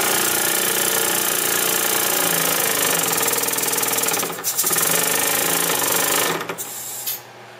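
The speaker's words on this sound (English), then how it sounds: "One of the figures of quality for a steam engine like this is how slow can you run it." A small model steam engine in a home machine shop runs slowly with a loud, close, steady mechanical beat that falters briefly and then dies away near the end.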